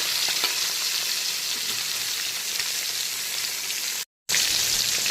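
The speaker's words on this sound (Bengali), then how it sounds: "এখন মাছের উল্টো দিকটাকে ভেজে নেব।" Bhola fish frying in hot oil, flipped to cook the other side, giving a loud, steady, dense sizzle close by that continues throughout with one very brief dropout.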